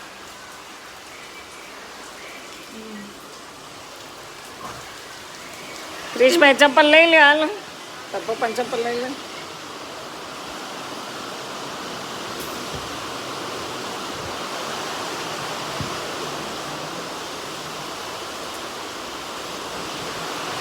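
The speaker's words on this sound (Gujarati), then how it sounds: "બહુ વરસાદ આવવા માંડ્યો" Heavy rain falls in a village, a steady, dense hiss that runs from start to finish, with people talking briefly partway through.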